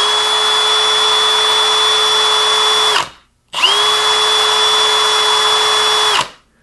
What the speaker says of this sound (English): It's a hammer drill driver.